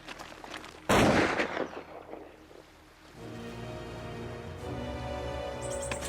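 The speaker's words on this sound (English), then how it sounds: "Good shooting, Smith." A gunshot in an animated children's film about Pocahontas, one loud sharp blast followed by a decaying rumble, then a sustained music score rises underneath.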